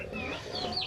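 Native chickens clucking nearby, short busy clucks and a thin high call over a steady farmyard hum.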